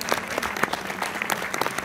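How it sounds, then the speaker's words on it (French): Audience applause at a film premiere in Orléans for Les femmes du square, with a steady dense patter of many hands clapping, fairly close and continuous, with no talk over it. "je vous demande d'applaudir très fort"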